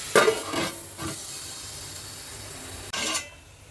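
Chopped onions frying in oil in a pan for a potato and tomato curry, giving a steady soft sizzle with a few scraping stirs at the start and another near the end.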